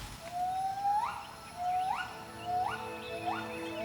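Wild gibbons give a series of four rising, whooping calls that climb in pitch and come at a steady rhythm, loud over a background hum of forest insects.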